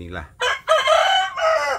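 A native village hen with her newly hatched chicks gives a few loud, close clucking calls separated by short pauses, with faint peeping and background sounds beneath.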